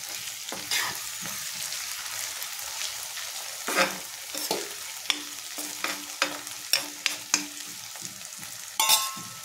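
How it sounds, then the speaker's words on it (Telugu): Onions and tomatoes fry in a pan for an egg and dry fish curry. A moderate sizzle runs throughout, with a series of sharp spatula taps and scrapes in the second half. "ఇప్పుడు టమాటాలు వేసేసుకుందాం. టమాటాలు కూడా బాగా మగ్గాలి"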